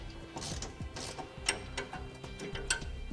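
A 13mm bump stop bolt being loosened by hand, giving a run of small, close metallic clicks and ratcheting ticks in an irregular rhythm.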